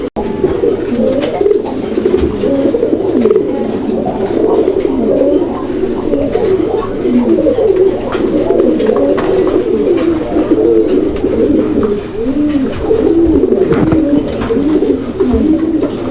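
Many pigeons at a pigeon sale coo loudly and without pause, a dense chorus of overlapping throaty calls filling the whole stretch at close range.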